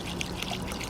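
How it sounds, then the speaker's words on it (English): Rice water is poured over fish for a Lao steamed fish dish, giving a short, steady, faint splashing trickle with no voices. "you wanna pour into your fish. And make sure it's all the rice water cover the fish real good"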